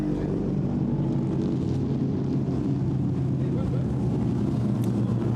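A Lenham GT race car at the Goodwood Members' Meeting drones past in a steady loud engine roar, mixed with gusty wind buffeting, with no distinct pass-by peak.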